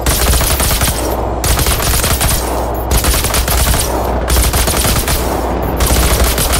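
Hunters in Generation Zero fire rapid, continuous automatic gunfire, loud and close, with the bursts pulsing in a steady rhythm throughout.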